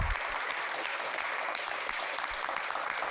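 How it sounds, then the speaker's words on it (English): An audience at a State of the City address in Savannah claps steadily, a dense, even wash of applause heard on its own without voices. "So just give yourselves a round of applause."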